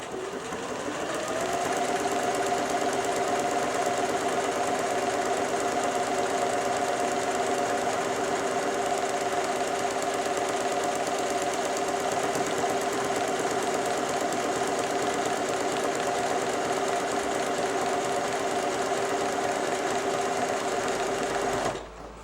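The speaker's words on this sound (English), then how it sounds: "that's the machine ready to do the buttonhole" A Janome 760 sewing machine stitching a buttonhole, started from the front start-stop button: a loud, even mechanical whir with a fast rapid needle chatter that runs continuously for about twenty seconds before stopping abruptly.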